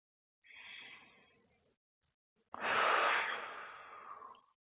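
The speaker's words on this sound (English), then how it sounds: "we'll do 3 deep breaths to finish off this position" Close, unhurried breathing during a yoga stretch for loosening the ankles: a soft inhale, a pause, then a long, fuller exhale, alone in a quiet room.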